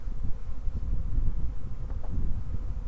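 Honey bees swarm around a nucleus hive being settled into a homestead apiary, a dense, close, continuous low buzz with some wind rumble and leaf rustle mixed in.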